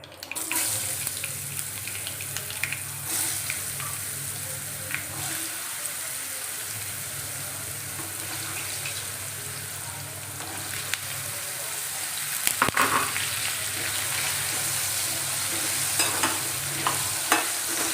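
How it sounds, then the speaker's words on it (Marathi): Potatoes for a spiced okra-potato dry curry fry in a pan with turmeric, asafoetida and curry leaves, giving a steady close sizzle with scraping stirs and a low rumble that rises and drops, without voices. "मी बटाटे छान परतून घेते"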